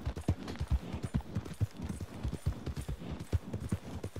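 Horse hooves clip-clop steadily across ground in Red Dead Redemption 2 Online, a continuous rhythmic gallop of dull thuds close up, under a busy wash of game ambience.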